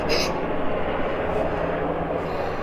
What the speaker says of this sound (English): There's a plane flying over us.